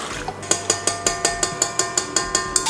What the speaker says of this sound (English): we're gonna add this and the milk to our stand mixer